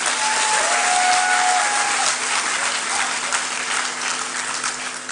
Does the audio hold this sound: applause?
yes